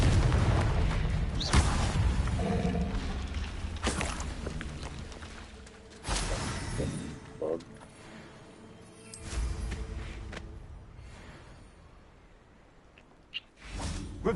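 Spell explosions burst in the Hogwarts Legacy video game on PS5, with several loud booms and whooshing blasts spaced across the stretch, separated by quieter rumbling ambience.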